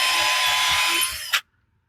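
A power drill bores through wood with a loud, steady whir for just over a second, ending in a short burst and then cutting off sharply into silence.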